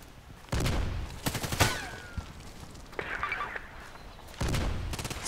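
Gunfire in the shooter game Contract Wars: a few sharp reports in separate bursts, one near the start, a cluster around the second mark and another near the end, with quieter game noise between.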